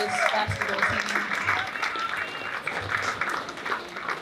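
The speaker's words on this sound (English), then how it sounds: "Please clap it up for them." An audience at a school sports award dinner applauds a basketball team, a soft wash of clapping that runs steadily beneath a speaking voice.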